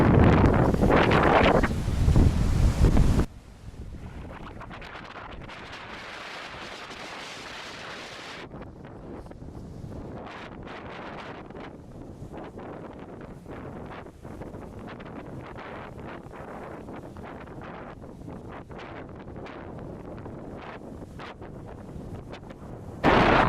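Wind sweeps across a seaside beach near Leiden in the Netherlands, a loud buffeting roar on the microphone at first, then a steadier, softer gusting rush that swells again at the end.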